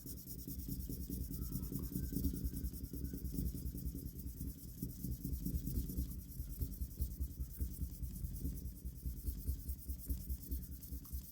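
A block sander with 1000 grit sandpaper rubs back and forth over a firearm's surface in a steady, rhythmic, close scratching hiss that continues without pause and without talk.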